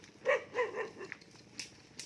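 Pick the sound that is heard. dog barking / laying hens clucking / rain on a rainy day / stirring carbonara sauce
dog barking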